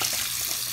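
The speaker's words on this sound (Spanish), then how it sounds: "Vamos a echarle agua." Water from a bathroom tap runs steadily onto a painted craft piece, a brief continuous hissing splash heard alone and close.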